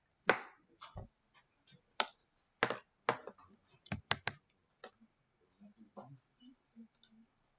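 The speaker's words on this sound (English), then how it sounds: "now I can start typing" Keys clack on a computer keyboard in short, irregular bursts of separate taps with quiet gaps between them, close and clear in an otherwise silent room.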